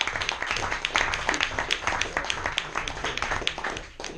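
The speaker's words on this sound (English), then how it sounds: "big round of applause for" Audience at a copywriting seminar gives a round of applause: many hands clapping in a steady, fairly soft patter, tapering near the end.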